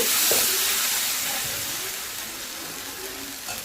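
Red rice adai batter poured thick onto a hot oiled dosa griddle sizzles with a steady bright hiss, loud at first and slowly easing off.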